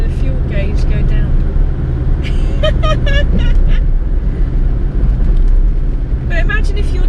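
Rover P6 2000 Automatic held in second gear, its engine droning steadily and loud throughout, with someone talking over it and brief higher tonal chirps from the cabin.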